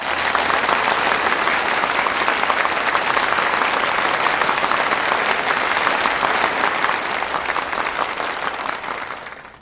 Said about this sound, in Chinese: 掌声很热烈啊